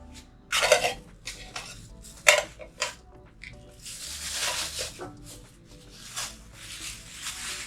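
A camping cookware set and its kettle are handled at close range, with repeated metallic clanks and clatters of pots and lids, then rustling and scraping between the knocks, and no talk.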